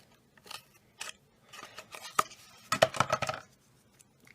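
Scissors snipping through a cardboard paper roll, a series of close, crisp cuts in irregular bursts with a denser flurry near the end, no talking.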